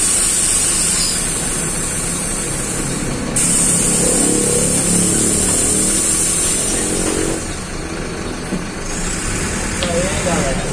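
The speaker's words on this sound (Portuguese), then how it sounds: "O motor é muito bonito. Dirigindo aqui à noite, na linha 604." City bus on line 604 driving at night, its engine rumbling steadily throughout with a shift in level partway, under road noise and a faint high whine.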